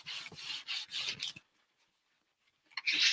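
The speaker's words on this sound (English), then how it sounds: "I'm going to take my cloth and I'm smoothing out the wrinkles" Cloth rubbed by hand over a painted IOD Spring Melody paint inlay, close and soft, in several short rasping strokes, then a pause with faint touches before the rubbing resumes.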